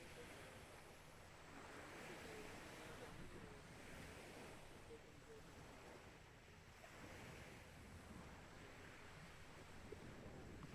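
Ocean waves and swell at Bowen Beach on Bowen Island, BC, washing steadily under heavy wind buffeting the microphone, faint and continuous.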